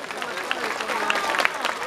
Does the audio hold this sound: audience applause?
yes